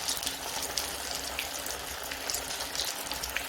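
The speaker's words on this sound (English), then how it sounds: "let them fry" Mashed potato snacks, made without eggs, fry in a large pan full of oil, giving a steady, close sizzling hiss with scattered crackles and pops throughout.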